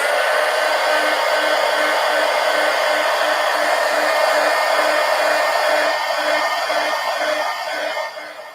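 A hair dryer blows on paint in an art journal, giving a loud, continuous whooshing whine with a steady motor hum that holds for several seconds before easing down at the end.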